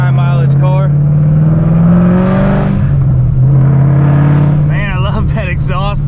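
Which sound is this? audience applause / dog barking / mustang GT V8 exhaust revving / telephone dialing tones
mustang GT V8 exhaust revving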